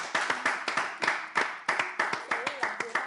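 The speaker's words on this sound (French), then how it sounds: "On applaudit quand même." Small audience clapping in a room, a rapid, uneven patter of hand claps with a quieter voice or two speaking faintly underneath.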